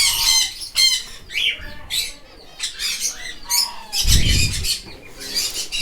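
A parrot, one of an unusual-looking kind kept among many birds, gives repeated loud, harsh squawks and chirps in close, busy bursts, with a heavier thump or flutter partway through.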